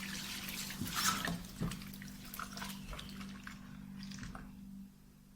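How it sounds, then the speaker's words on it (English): Running water splashes over grated yam in a bowl as it is rinsed to wash off starch, a steady trickle with a few louder splashes and light clinks before it stops. "Now I'm going to go ahead and rinse it with some water to remove that excess starch."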